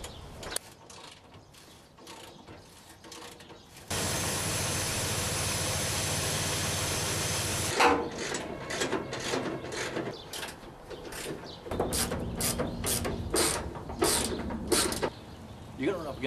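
Wrench work on the rusty cowl and fender bolts of a 1960-66 Chevy truck: a long steady mechanical whir in the middle, surrounded by irregular ratcheting clicks, creaks and metallic taps, fairly quiet and close.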